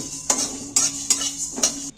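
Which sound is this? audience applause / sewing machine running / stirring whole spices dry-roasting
stirring whole spices dry-roasting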